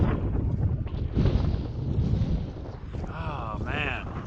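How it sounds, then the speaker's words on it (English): Gusty wind roars across a microphone outdoors in freezing conditions, a loud, rumbling buffeting that continues throughout, with a brief rising whine near the end. "It's just too windy."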